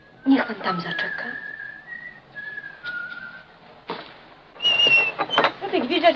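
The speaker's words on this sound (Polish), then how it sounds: "Co ty gwizdzasz jakieś szwabskie piosenki przed naszym domem?" Whistled melody of a German song, outdoors in front of a house, sustained tonal notes in several phrases with pauses; a person speaks briefly at the start and near the end.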